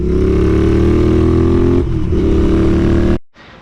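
Loud, close engine note from a Royal Enfield Continental GT motorcycle with a 2-into-1 exhaust, holding a steady drone before dropping in pitch through downshifts and cutting off abruptly near the end.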